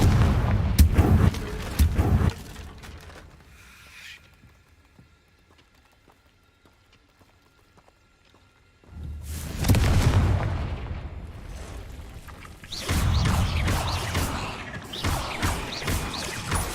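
Confringo fire spell blasts in the video game Hogwarts Legacy crash and boom loudly in two clusters, with a near-silent lull in between. Debris clatters with sharp impacts at each burst.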